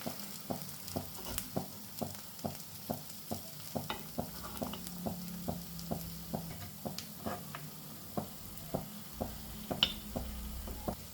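Pineapple cake batter frying in an unniyappam pan gives a soft sizzle under a run of sharp metallic taps and clicks as each piece is turned, ticking in a fairly regular rhythm, close and quiet.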